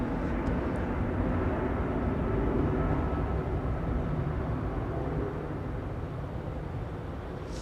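A DHL Airbus A300 freighter departs Heathrow's runway 09R, a broad steady jet engine roar that builds slightly and then eases, heard from a distance and free of talk.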